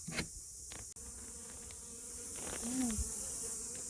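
Honeybees buzzing inside a two-brood-box hive, a soft, continuous drone with occasional light knocks and rustling nearby.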